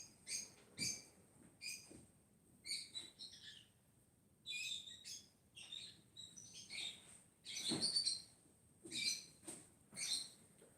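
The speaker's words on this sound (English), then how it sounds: "Yes, birds. Birdie birds." Small birds chirp and tweet in repeated short bursts, close and fairly clear, with brief pauses between calls and no talking.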